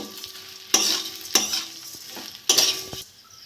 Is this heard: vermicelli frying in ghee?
yes